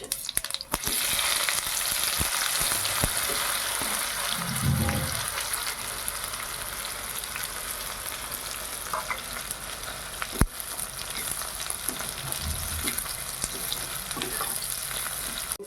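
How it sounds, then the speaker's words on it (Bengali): Cumin seeds and chopped onion hit hot oil for a tempering, a steady close sizzle with occasional stirring scrapes and a sharp clack partway through, with no talking over it. "ফোড়নে আমি দিচ্ছি জিরে আর কেটে রাখা পেঁয়াজ"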